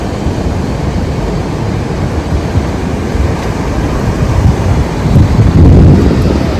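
Strong wind roars continuously across the microphone on a beach, a dense low rumble that swells louder toward the end, with no voices.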